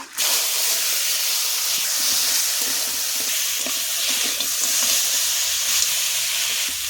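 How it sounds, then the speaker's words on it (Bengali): A constant loud sizzle and hiss of crab frying in hot oil in a wok runs throughout, with faint crackles and stirring underneath. "এবার আমি ভেজে নেব"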